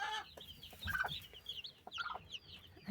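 A broody hen clucks in short, soft bursts near newly hatched chicks, a few of them still wet, with thin high peeps scattered throughout and no voices present.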